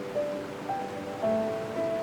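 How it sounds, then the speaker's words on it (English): The roar of Iguazu waterfall in Argentina, a steady, broad rushing of water that stays even throughout, with faint tonal tones drifting over it. "The thunderous roar of water echoed like an endless symphony of the earth."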